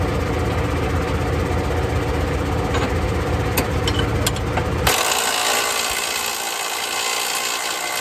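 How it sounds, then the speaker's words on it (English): A McConnel hedge trimmer-equipped tractor's engine idles nearby in a continuous, even drone with some clattering, and its tone shifts partway through. "Yes, I do know the tractor's still running"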